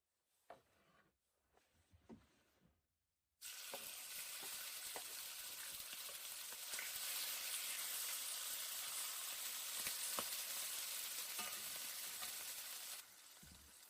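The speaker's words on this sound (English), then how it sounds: "I fry all of that, keep frying," Chicken thigh frying in a pan with onions, mushrooms and pepper. A steady loud sizzle comes in suddenly after a few quiet knocks and continues evenly, with occasional scrape and clack from stirring.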